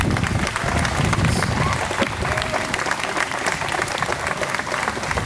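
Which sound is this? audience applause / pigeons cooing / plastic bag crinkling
audience applause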